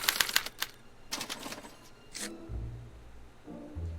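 A special typewriter in the Back to the Future video game punches out a card, with rapid clattering key strikes and mechanical bursts, then lower whirring machine tones toward the end, with no speech.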